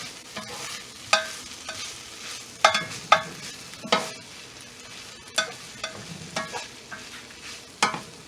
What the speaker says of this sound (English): We're just gonna mix that up